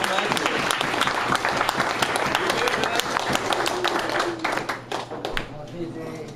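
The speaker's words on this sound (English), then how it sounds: "You guys can clap" Audience clapping at an art show, dense broadband applause filling the room with sharp hand claps, steady and loud before tapering slightly near the end, with crowd voices murmuring underneath.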